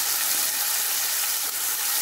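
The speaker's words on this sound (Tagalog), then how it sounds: "niluluto na natin ang ating hipon" Shrimp sizzles steadily in a hot pan, a continuous dense crackle of frying with no pauses, fairly close and alone.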